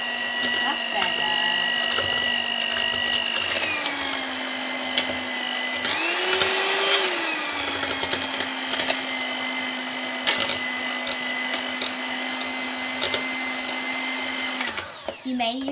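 An electric hand mixer whirs steadily while cookie dough for triple chocolate chip crinkle cookies is beaten, its motor pitch shifting as the speed changes, loud and close throughout.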